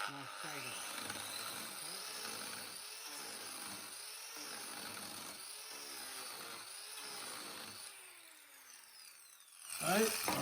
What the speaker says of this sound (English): here I have the turboplane fitted to a power carver